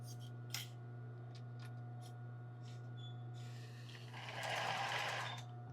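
A sewing machine stitching an embroidered tulle bra, a faint steady motor hum with scattered clicks and small handling noises, then a louder burst of rustling near the end, no talking.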